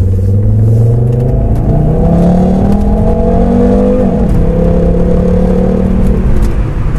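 A Volvo C70 T5 GT accelerates hard, its engine note climbing steadily and loudly, with a brief dip around a gear change before it pulls again under a continuous roar heard from inside the car.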